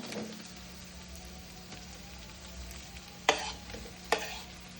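Chopped idli stirred in a pan with green chillies, a soft continuous sizzle and scraping under a steady low hum, with two sharper spoon clacks near the end.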